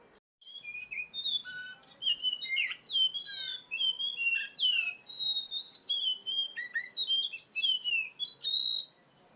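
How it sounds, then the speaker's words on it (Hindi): An Asian koel calls in a hill village, with clear repeated whistled notes in quick bursts against a quiet background. "और ये हमारी कोयल बोलने लग जाती है।"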